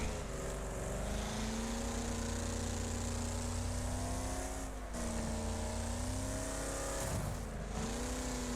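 Racing cars in the video game Wreckfest during an online race, a loud continuous engine drone with shifting revs, rising and falling pitch, and brief dips as the pack runs down the straight over jumps.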